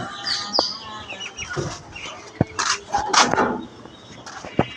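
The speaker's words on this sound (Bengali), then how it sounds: "এই খাঁচায় করে রাখতাম আমার ঘরের দেশি মুরগি বাচ্চা" Young desi chickens cluck and peep close by inside a cage, with a few sharp knocks and rustles in between.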